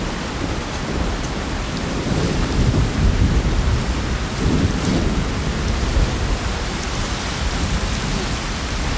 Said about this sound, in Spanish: Feodor! Lluvia, Feodor! Lluvia